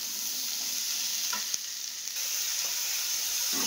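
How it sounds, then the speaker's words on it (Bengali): Yardlong beans and potato frying in a nonstick wok give a steady, close hiss of sizzling oil with a few soft stirring knocks and scrapes, no voices. "তো বরবটি আলুটা একটু লাল লাল করে ভেজে নেবো"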